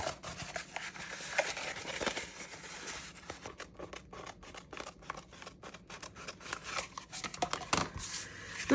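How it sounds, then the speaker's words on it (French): Scissors cut steadily through material at a table, producing quiet, close snips and crisp rustles repeating at an uneven, unhurried pace, with no voices. "Je vais couper ça tranquillement."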